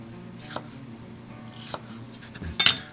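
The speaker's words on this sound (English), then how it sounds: "I'm gonna grab some jalapeno. I'm gonna make some slices." A knife slices jalapeno peppers on a board, a few sharp separate cuts spaced apart, with the loudest crisp cut near the end, close and fairly quiet overall.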